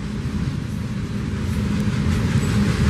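A BNSF freight train with locomotives rumbles steadily through a switch yard, a continuous loud low drone of engines and rolling cars that builds slightly over the few seconds, with no voices.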